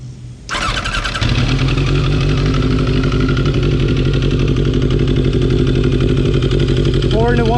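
A 1988 Kawasaki Ninja ZX10 motorcycle engine with a four-into-one Vance & Hines exhaust cranks and catches, then settles into a loud, steady, throbbing idle close by.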